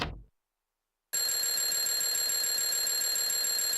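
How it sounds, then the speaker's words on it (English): An electronic alarm clock set for 6 a.m. in the PS1 horror game Clock Tower cuts in abruptly after a brief silence and rings loudly and continuously in a steady, shrill buzzing tone. "An alarm clock. It's set for 6 a.m."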